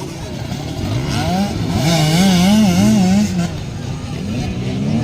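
A young girl's racing motorcycle revs hard in a kids' race, its engine pitch swooping up and down through repeated throttle blips, loud and close, with crowd noise beneath.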